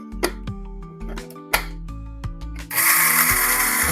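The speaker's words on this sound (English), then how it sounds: "Then I'm just going to put them in my grinder here" Eggshells are dropped into a small grinder with scattered clinks and clicks. Then the motor starts up with a loud, steady whirring grind that lasts to the end.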